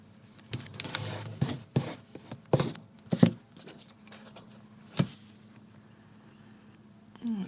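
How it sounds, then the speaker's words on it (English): A bone folder rubbed along the folded edge of a book page to press a sharp crease, a series of short dry scraping strokes in uneven rhythm, close and fairly clear, with no voices. "I like to use a bone folder to get a nice sharp crease on the edge of the paper"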